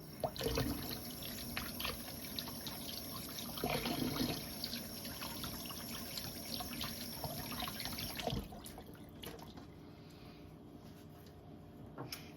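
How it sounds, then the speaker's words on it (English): Water runs steadily from a kitchen tap while hands are washed during banana bread prep, a continuous splashing trickle that drops quieter after about eight seconds. "Let me wash my hands real quick."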